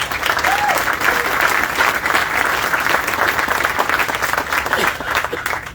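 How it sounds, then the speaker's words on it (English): An audience at a park groundbreaking ceremony applauds steadily for several seconds, a dense wash of clapping that holds at an even level before fading slightly at the end. "Can we give them a round of applause?"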